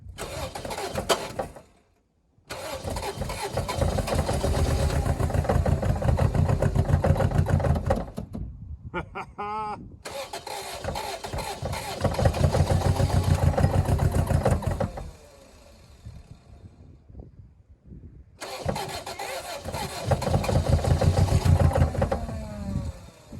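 A 1989 Mercury Grand Marquis with a carburetor being cranked and brought to life, heard as repeated rounds of loud engine cranking and rough running, broken by short silences and a few clicks.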